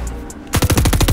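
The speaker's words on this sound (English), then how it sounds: "Oh, there's a kid shooting at me." Rapid automatic gunfire from the Fortnite video game bursts out after a quiet half second, a loud, fast string of about eight evenly spaced shots with no talk.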